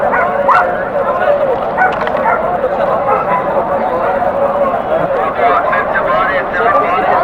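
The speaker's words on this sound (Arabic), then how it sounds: "هذا جراء جيرمان" German shepherd puppies at a pet market yip and whimper in a busy, continuous chorus of high little barks, mixed with the loud chatter of crowd voices nearby.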